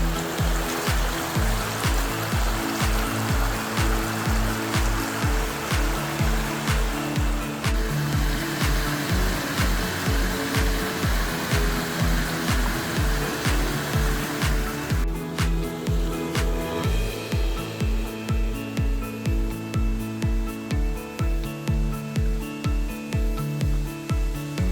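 Constant heavy roar of the Cascade de la Roche waterfall on a late-summer hike, loud and unbroken throughout, with a faint rhythmic thumping underneath and no talking.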